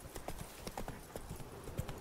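Hooves clip-clop steadily as a horse is ridden in The Witcher 3: Blood and Wine, with a regular rhythm of moderately loud hoofbeats over soft ambient background.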